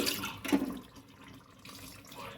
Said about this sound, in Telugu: గిన్నెంతా శుభ్రంగా కడిగి